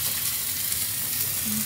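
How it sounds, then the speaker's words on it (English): Food sizzles on a hot plate at an evening meal in Ella, Sri Lanka, a faint, steady frying crackle lasting under two seconds with no voices. "Look at this, we've got a bit of a sizzle happening."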